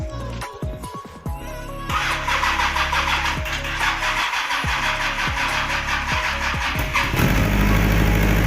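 A Honda CBR 1000 engine swapped into a Polaris RZR cranks with a few starter turns, then catches and settles into a loud, steady idle with a slight rise near the end, heard close up with no talking.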